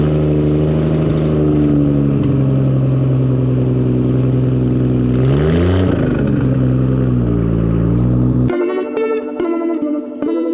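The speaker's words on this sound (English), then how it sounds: "send the R32 out on the open drift for a couple laps" A Nissan R32 GT-R, switched to rear-wheel drive, revs hard while drifting on an open track, a loud, sustained engine howl with rising and falling pitch that gives way to sharp, buzzing limiter-like bursts near the end.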